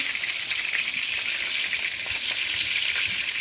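Meat pieces fry skin-side down in a pan, giving a steady, close and loud sizzle with crackling spatter throughout and no talking.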